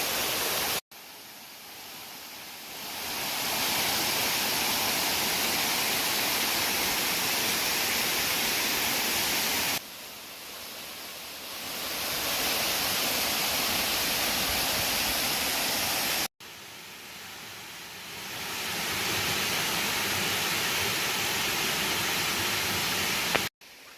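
Waterfall in the Portland countryside, a steady broadband roar of falling water that swells in and cuts out in three separate takes, loud and close with no voices.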